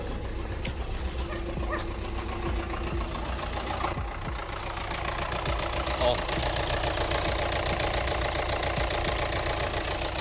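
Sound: car engine knocking at idle

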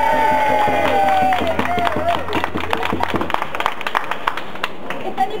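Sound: round of applause from crowd

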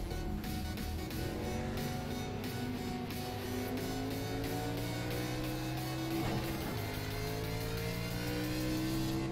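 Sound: race car running laps in iRacing video game

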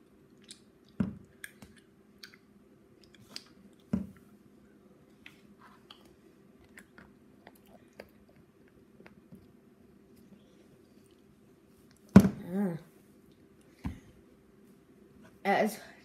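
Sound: eating and chewing frozen honey jelly

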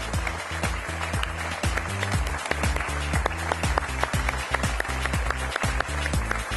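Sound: applause for beauty pageant contestants

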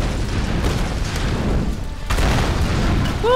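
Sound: explosion and falling rocks in Tomb Raider video game

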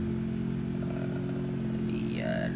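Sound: motorcycle engine in the video game Free Fire

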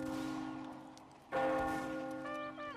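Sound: church bell tolling in Mount & Blade video game

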